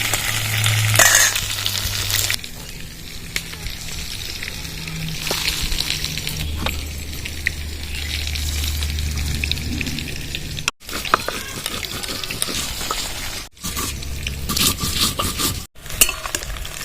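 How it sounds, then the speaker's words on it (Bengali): Pointed gourd (potol) pieces fry in hot oil in a pan for a potol kalia, giving a steady close sizzle with occasional stirring scrapes and utensil clinks, interrupted by a few brief drops in level. "ভালো করে পটলগুলো ভেজে নিতে হবে তাহলে পটলের কালিয়াটা খেতেও সুস্বাদ লাগবে"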